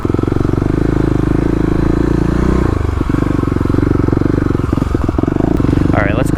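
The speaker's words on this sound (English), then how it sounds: "you do get some of that noise coming from the engine" A Kawasaki KLX351 dirt bike engine idles and runs loudly and steadily nearby, a continuous low throbbing rumble with a brief dip and some clattering.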